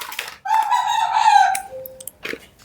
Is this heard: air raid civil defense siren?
no